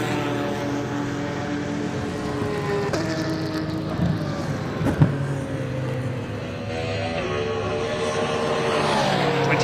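Race cars lapping the Snetterton circuit during a BARC Snetterton 300 endurance race, including a Porsche 992, engines droning and shifting pitch as they pass, with a sharper burst midway and a steady rising roar toward the end.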